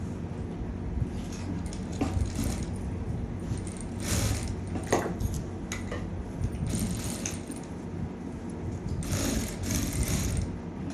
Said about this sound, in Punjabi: ਤੇ ਇੱਥੇ ਆਪਾਂ ਇੱਕ ਸਲਾਈ ਲਾਉਣੀ ਹੈ ਇੱਥੋਂ ਸਲਾਈ ਸ਼ੁਰੂ ਕਰਕੇ ਆਪਾਂ ਇਹ ਸਲਾਈ ਇੱਥੇ ਲਿਆਵਾਂਗੇ